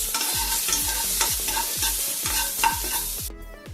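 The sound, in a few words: onions frying in a pan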